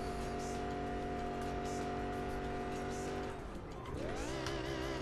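A car engine in the Sleeping Dogs video game, droning steadily at constant revs, then dipping and climbing again as the driver shifts or brakes, with faint tire noise throughout.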